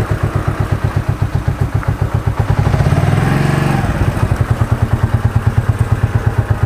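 A motorcycle rides past a cemetery with its engine close and loud, its exhaust pulsing in a steady fast chug that swells briefly in the middle of the ride.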